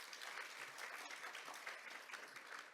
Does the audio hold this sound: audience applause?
yes